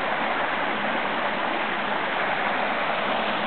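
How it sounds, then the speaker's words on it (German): The Endert stream flows wild beside a woodland hiking path behind Göbelsmühle, a loud, steady rushing of water that fills the whole stretch without a break. "Ganz romantischer Weg direkt am Bach."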